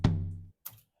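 A tom drum sample in an Afro House beat made in FL Studio hits once with a sharp attack and a booming tuned body that decays for about half a second, followed by a softer, shorter second hit.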